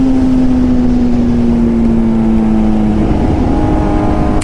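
A motorbike engine revs steadily at high pitch, holding a constant loud drone that dips slightly before rising again near the end, with no talk over it.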